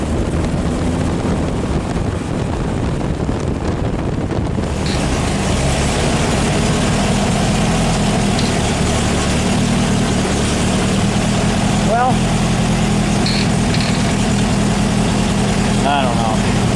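Car engine fitted with Weber/Dellorto carburetors idling outdoors in a neighborhood, a steady low rumbling idle throughout with some wind buffeting on the microphone and occasional faint sounds over it.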